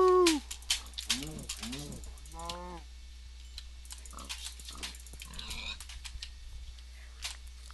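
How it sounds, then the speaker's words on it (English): Minecraft game sounds with pig grunts and squeals, several in quick succession, then scattered clicks, footsteps and softer animal noises in the blocky world. "here's some pigs and cows and stuff"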